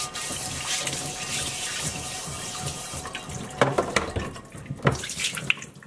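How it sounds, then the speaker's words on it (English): A hot cast iron skillet is scrubbed under running tap water with a stiff brush, with a steady close stream of water and brief scraping bursts toward the end. "It is gonna need water and a nice stiff brush"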